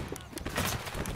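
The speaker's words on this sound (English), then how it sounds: "Keep firing, boys." Musket volley fire in the Civil War game Battle Cry of Freedom, several overlapping distant shots cracking in quick succession over a busy battlefield, with a voice talking faintly underneath.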